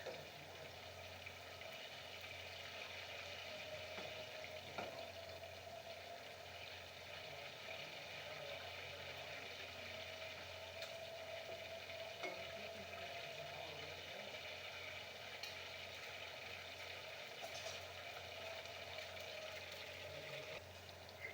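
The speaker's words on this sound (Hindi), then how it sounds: "चिकन को हाफ फ्राई करें। फुल फ्राई करने से चिकन सख्त हो जाता है। तकरीबन 8 मिनट तक के लिए फ्राई करें।" Chicken pieces half-frying in hot oil for kung pao chicken, a steady, even sizzle that carries on throughout without a break, with no voices over it.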